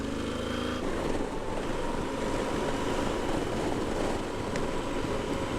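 An offroad motorbike ridden through water in the Karoo, South Africa, makes a sudden rush of splashing and churning that continues steadily under the engine noise, with no one talking.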